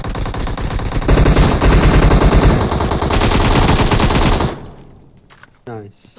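Rapid automatic gunfire from a mobile shooter game fills the first four and a half seconds, loud and continuous in a dense stream of shots, then cuts off abruptly, leaving a faint tail and a brief blip near the end.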